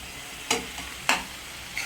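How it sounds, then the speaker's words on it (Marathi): Onion, tomato and capsicum frying in a pan for pav bhaji: a soft, even sizzle broken by three sharp stirring clatters, no talking. "आता ह्याच्यात आपण कांदा, टोमॅटो आणि शिमला मिरची ॲड केलेली आहे. छान असं परतून घ्यायचं आहे त्याला चांगलं शिजेपर्यंत."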